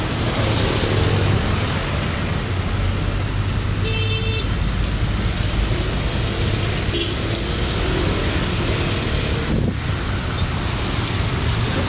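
Road traffic on a wet, stormy day, with a steady wash of engine and tire noise, strong wind buffeting the microphone, and a short car horn toot near the middle.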